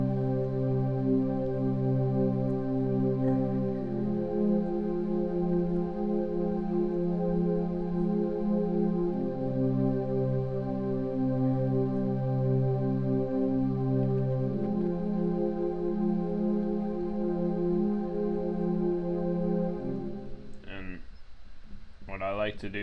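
Soft synthesizer pad chords from a Xenology patch called Soft Pad 1 sustain and shift smoothly, warm and steady throughout, with a brief different sound near the end.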